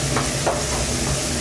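Mushrooms going into a hot pan with bacon for coq au vin, a dense continuous sizzle with a soft stirring scrape, close and fairly loud.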